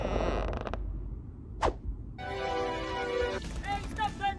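In an animated cartoon, a door creaks in several drawn-out, groaning bursts between quick sound effects, with voices talking around it.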